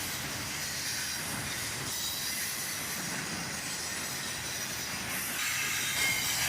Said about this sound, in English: And finally, the tail end of this train goes by.